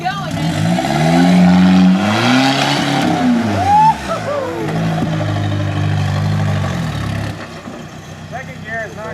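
An off-road vehicle, apparently the "Lite Brite", revs loudly and close, its engine climbing and falling while the cheap tires spin and squeal on the dirt, with someone talking over the din.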